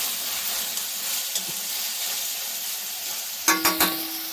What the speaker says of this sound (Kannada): ಎಣ್ಣೆನಲ್ಲೇ ಚೆನ್ನಾಗಿ ಫ್ರೈ ಮಾಡಿಕೊಂಡ್ರೆ ಇದೇ ಬೇರೆ ರುಚಿ ಇರುತ್ತೆ.